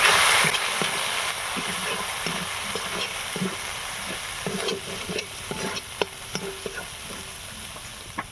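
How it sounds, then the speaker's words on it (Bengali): Spices with cumin and Kashmiri chilli powder frying together in a pan for a cabbage and chickpea niramish, a loud continuous sizzle with repeated close stirring scrapes and taps. "মশলাটাকে একসঙ্গে কষিয়ে নেব"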